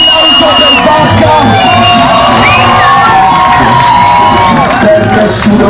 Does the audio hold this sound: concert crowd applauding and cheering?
yes